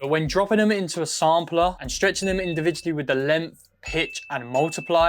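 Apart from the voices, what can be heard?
None of the usual background noises is heard.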